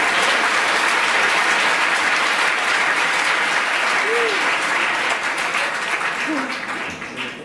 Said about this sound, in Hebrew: מחיאות